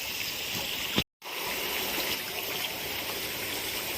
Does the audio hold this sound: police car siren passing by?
no